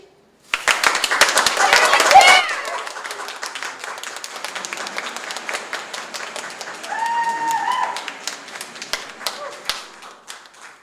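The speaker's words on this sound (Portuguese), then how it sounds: "Mag ik nu een applausje?" Audience applause at a children's event in a library, a burst of clapping that rises loudly for about two seconds and then thins into scattered claps, with voices and chatter continuing underneath.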